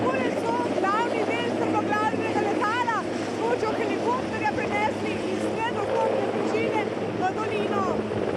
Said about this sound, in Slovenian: S pomočjo helikopterja so razbitine sedaj tudi prenesli v dolino.